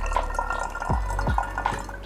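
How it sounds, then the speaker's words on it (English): Water poured over paper coffee filter in a pour-over brewer, a steady trickle with scattered drips and gurgling plops close by, no talking. "As always, I'm gonna wash out the filter paper."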